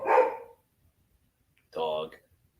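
A single dog barks twice, a short loud burst at the start and another after a pause of over a second, each brief and close with silence between.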